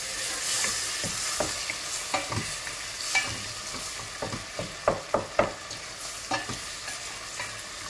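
Tomatoes and masala sautéing in a pan, with a soft continuous sizzle broken by repeated scraping stir strokes from a spoon, close and fairly quiet, with no voices.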